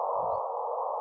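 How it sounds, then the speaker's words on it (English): The gravitational wave chirp from two merging black holes, each about 30 times the mass of the Sun, comes through as a steady, clean tone that holds for about a second, with a faint brief low rumble near the start. "This is the sound of two black holes colliding and merging."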